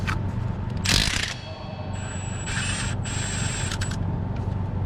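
A 3/8-drive ratchet with a 15 mm socket working the belt tensioner on a Ford truck: close metallic clicking bursts and whirring pawl sounds in short spurts over faint workshop background noise, no speech.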